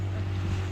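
Brief low, steady engine drone of a boat passing near a small crab-fishing canoe on backwaters in Ernakulam, with water and wind noise as the wake rocks the canoe.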